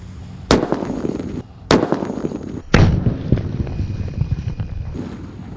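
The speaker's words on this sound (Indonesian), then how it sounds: "Di sini ada mercon buntelan kertas dengan buah semangka dengan mercon yang paling kecil guys" Paper-wrapped firecrackers, the smallest kind, exploding inside a watermelon outdoors: three sharp, loud bangs spaced about a second apart, each followed by scattered debris and background noise, with no talking.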